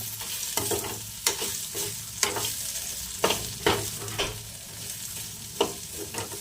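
Okra fry sizzles in a pan while it is stirred with turmeric over low flame. Near, repeated scraping strokes fall over a steady frying hiss, with no talking.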